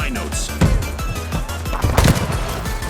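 Rapid gunfire rattles in the video game THE FINALS, a string of sharp close shots in quick bursts with a louder cluster near the end, and a player's voice occasionally under it.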